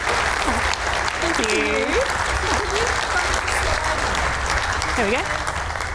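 A lecture audience gives a speaker after a physics talk on crystals and the Australian Synchrotron a loud, sustained round of applause, with a nearby voice speaking briefly over the clapping.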